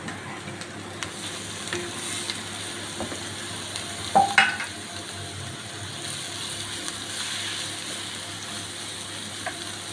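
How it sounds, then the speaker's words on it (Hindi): Washed minced meat sizzles steadily in a hot pan, with a faint scrape and clatter of stirring partway through. "इसको हमने अच्छे से फ्राई करना है। ये देखिए कीमा अच्छे से फ्राई हो गया।"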